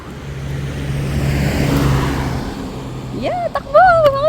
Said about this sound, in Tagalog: May sasakyan!